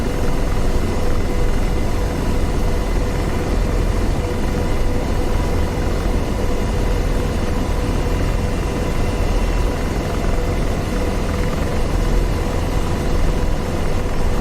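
An AH-64D Apache helicopter lifting off in DCS World, a loud steady rotor and engine drone that stays even and constant from start to finish, with no voices over it.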